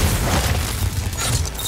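Heavy weapon fire and a booming explosion in Horizon Forbidden West, a loud, dense low-end blast that rumbles and crackles continuously, with a second swell of impact near the end.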